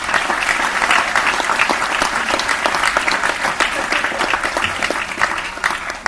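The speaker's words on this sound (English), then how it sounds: "can we please give another huge round of applause for everyone who helped out in that video?" A large audience claps steadily and loudly for several seconds, dense applause with no pauses, fading slightly at the very end.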